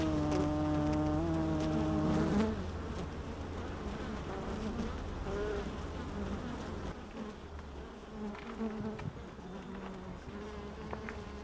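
Bees hum in a dense, steady buzz, loud and close at first and then settling into a continuous drone of many insects.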